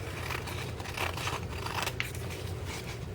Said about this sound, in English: You take your coffee filters and cut this one end off